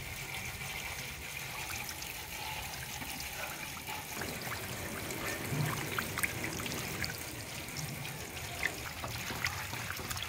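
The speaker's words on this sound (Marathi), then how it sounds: "स्वच्छ एकदम आपण 2-4 पाण्याने खळखळ धुवून घ्यायचे" Fresh river fish are rinsed in clean water, a steady close trickling and splashing that runs continuously, with a faint voice now and then.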